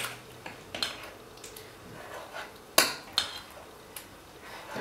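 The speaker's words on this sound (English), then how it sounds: "So we mix that in." Chickpea flour pizza batter being mixed in a bowl, a run of light clinks and scrapes of a utensil against the bowl with a few sharper knocks, close and fairly quiet, no talking.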